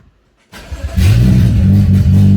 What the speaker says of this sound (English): I'm actually gonna turn on the car with the exhaust off